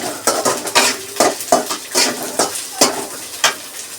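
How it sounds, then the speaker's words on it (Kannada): Onions frying in a pan for rajma gravy, with a spoon repeatedly scraping and clanking against the metal pan in uneven strokes over a soft sizzle, close and loud, no talking. "ಇದು ಆನಿಯನ್ಸ್ ಇವಾಗ ಚೆನ್ನಾಗಿ ಫ್ರೈ ಆಗಲಿ"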